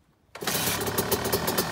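A cold Yamaha YZ 250 two-stroke dirt bike, rebuilt and with the choke on, fires up abruptly after a brief silence and settles into a loud, close, rattling rev with no speech.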